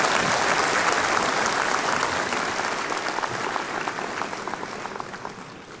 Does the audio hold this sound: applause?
yes